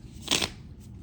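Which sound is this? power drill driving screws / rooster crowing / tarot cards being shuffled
tarot cards being shuffled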